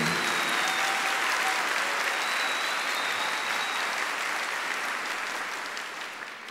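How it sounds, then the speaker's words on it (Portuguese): A church congregation applauds together in a thick, continuous wash of clapping that holds loud and even, then gradually softens toward the end, with a faint voice briefly carrying over it. "Podemos aplaudir ao Senhor mesmo por isso"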